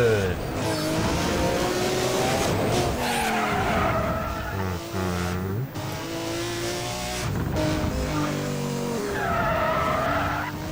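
Race cars in the Need for Speed World racing game skid with squealing tires and revving engines, a loud, continuous run of game audio with shifting engine pitches and repeated slides, while someone talks over it throughout.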